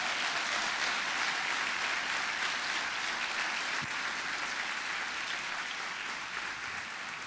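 Steady applause from a church congregation during a sermon, dense and sustained throughout, with no voices breaking through.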